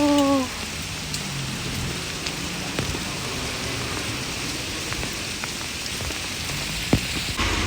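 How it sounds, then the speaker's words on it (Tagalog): Dense, steady patter of small hail pellets striking a surface in Israel, with a few sharper ticks standing out from the constant hiss. "Umuulan ng yelo."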